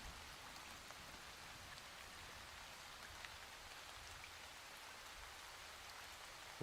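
Steady rain sound effect, a soft continuous hiss of falling drops on a surface, faint and even throughout with no voices.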